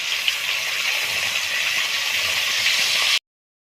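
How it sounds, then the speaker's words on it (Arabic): Garlic sautés in hot ghee in a pan, giving a steady, even hiss of sizzling. The sound holds constant for about three seconds and then cuts off abruptly. "اشوح التوم"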